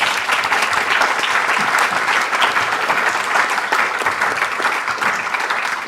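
Sustained applause from the audience at The Pitch 2024 Grand Final, a dense, steady wash of clapping that holds at an even level from start to finish, with no voice over it.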